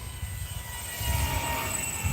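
An RC Arrows Husky model airplane passes overhead with a steady, whining electric drone that swells slightly in loudness, heard alone against faint outdoor background.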